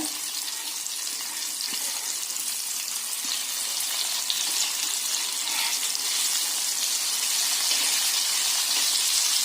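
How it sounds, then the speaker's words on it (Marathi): Bombay duck (bombil) fish frying in a pan over low heat, giving a steady, close hiss and crackle of oil that runs unbroken throughout with no talking. "तर आता दुसरी बाजू पण आपण त्याची फ्राय करून घेऊया"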